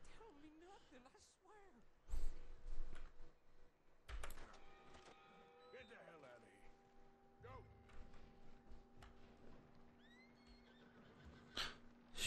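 Horse whinnying in the Red Dead Redemption 2 video game, several rising and falling neighs among game sounds and music, with a voice talking over parts of the scene.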